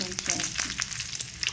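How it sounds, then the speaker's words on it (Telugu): Chillies fry in a little hot oil for tomato chutney, giving a brief, dense close-up sizzle with frequent crisp crackles and pops and no speech. "ఇప్పుడు మనం ఫ్రై చేసేసుకుందాం. ఇవి కూడా తొందరగానే వేగిపోతాయి"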